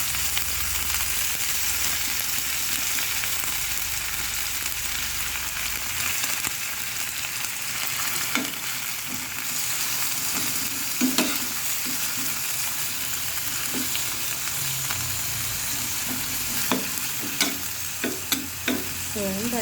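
Thin beef slices stir-fry in a pan for beef with broccoli, a steady sizzle and hiss with intermittent scraping and stirring clatter from a utensil, no talking.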